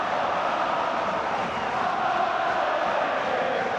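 A football crowd roars loudly and continuously after an away goal in a Scottish Cup fourth-round match between Hibernian and Hearts, a dense wall of cheering and shouting filling the stadium.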